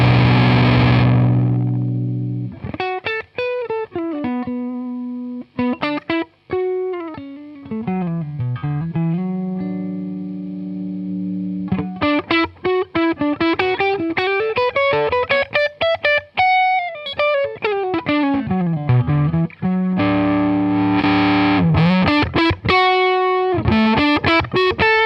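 Electric guitar with single coil pickups played through a germanium MXR/Dunlop effects pedal, giving a warm, mid-heavy driven tone; sustained notes and bending melodic lines ring out loud and alone with brief gaps.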